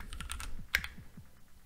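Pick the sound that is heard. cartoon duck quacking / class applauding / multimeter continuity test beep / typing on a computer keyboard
typing on a computer keyboard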